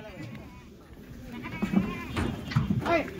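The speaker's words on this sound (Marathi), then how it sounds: "हे अजून भरपूर माल आहे, टोटल 80-81 शेळी मित्रांनो" Kathiawadi goats, part of a truckload of about eighty at a livestock sale, bleat in short calls amid crowd noise and people talking nearby, growing louder toward the end.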